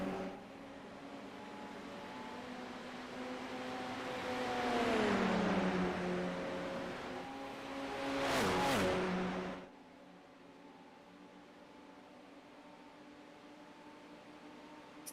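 Radical race cars in a sim racing game at Watkins Glen sweep through the bus stop chicane, engines rising and falling in pitch as they pass close by, one car roaring loudly through before the sound cuts off abruptly.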